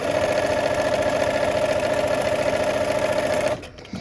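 Sewing machine back stitching a seam on a Lemoyne Star quilt block, a steady rapid mechanical whir with a fast stitching pulse, close and continuous before stopping abruptly.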